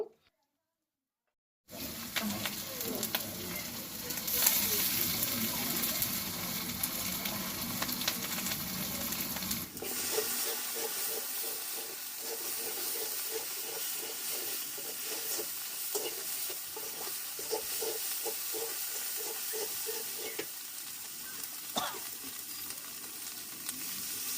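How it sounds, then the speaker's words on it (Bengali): Ground spice paste with turmeric and salt frying in a pan: a loud, steady sizzle with stirring scrapes, which settles into a quieter, crackling fry partway through. "সবগুলো মশলা একসঙ্গে একটু ভেজে নিলাম"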